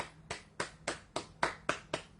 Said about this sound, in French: Je suis venu t'applaudir pour dire bravo.